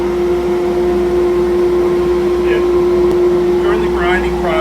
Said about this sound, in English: Then we'll bring it over to the grinder.